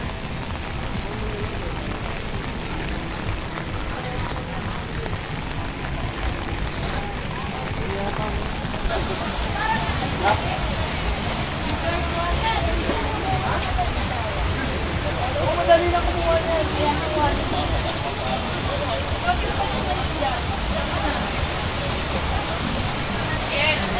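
Rain falls steadily on a makeshift roof and tent over an outdoor street-food stall serving pares, a continuous broadband patter with faint voices and stall activity beneath it.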